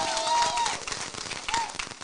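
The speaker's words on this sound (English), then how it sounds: "A big round of applause to yourselves" An audience applauding at a town hall meeting in Washington DC, crowd clapping filling the room at a distance with voices and cheering over it.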